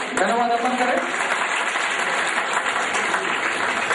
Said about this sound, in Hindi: एक बार तालियों के साथ उनको धन्यवाद अर्पण करें।